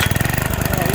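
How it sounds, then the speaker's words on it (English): Troy-Bilt garden tiller motor, about 25 years old, running steadily up close with a loud, rapid, even putter and no pauses. "Still a good running motor."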